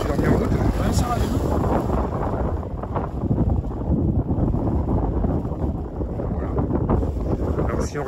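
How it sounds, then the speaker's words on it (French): Heavy wind buffeting a microphone, a constant loud low rumble with gusty swells throughout, roaring without any clear voices. "Désolé pour le bruit, il y a du vent."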